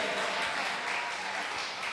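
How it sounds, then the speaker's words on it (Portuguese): A church congregation applauds, a brief, dense burst of many hands clapping that stays even and full for a couple of seconds. "Aplauda o Senhor Jesus se você puder."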